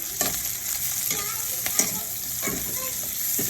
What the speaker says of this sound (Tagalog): Ayan na, yung pinunot na galunggong. Pahaluin lang natin.